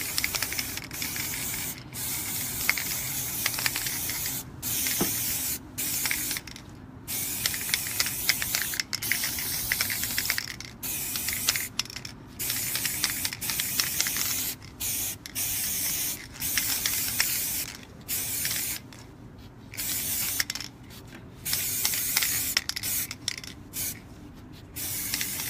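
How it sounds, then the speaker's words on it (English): Bursts of spray paint hiss from an aerosol can as miniatures turn on a Lazy Susan, repeated sprays of a second or two separated by short gaps, close and loud, no speech. "just by holding your spray in place and just rotating"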